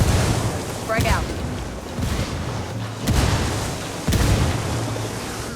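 Grenade explosions in the Ghost Recon shooter game, several heavy booms spaced about a second apart over a dense roar of battle noise, with speech-like sound mixed in.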